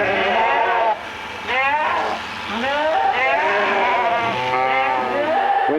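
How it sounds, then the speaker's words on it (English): A large Suffolk Cross ewe bleats several times in quick succession, close and loud, with wavering, nasal calls. "This sheep, or ewe, is the largest ewe that we have here."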